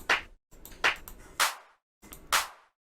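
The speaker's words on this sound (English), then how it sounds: "go find maybe another clap sound" Clap samples auditioned one at a time in the FL Studio music software: five crisp, dry hits with short tails and brief gaps between them, played alone with no voice over them.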